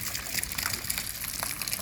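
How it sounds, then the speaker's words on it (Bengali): Water trickling and splashing from a partly working garden fountain at Pinjore Garden, a steady soft wash of small droplets with no voices. "এখানেও একটা ফোয়ারা ছিল, এখনও জল অল্প স্বল্প আছে।"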